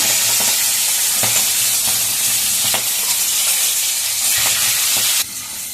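Chickpeas and cumin seeds frying in hot oil for a pumpkin-greens dish make a loud, continuous sizzle, with scattered clinks and scrapes of stirring. The sound drops abruptly quieter just before the end.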